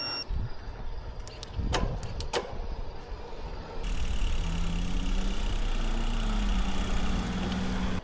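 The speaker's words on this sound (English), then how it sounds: "I'm going to take this little bike for a ride with my headlight and we'll see how good it is." Small motorbike ridden along a dark path at night, a steady engine hum with a few brief clicks early on, then the engine swells louder and rises in pitch as it pulls away.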